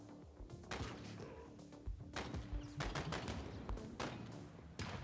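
Rapid volleys of gunfire from the mobile game Johnny Trigger crack out in repeated bursts over a steady, busy game soundtrack, loud and close, with no talking.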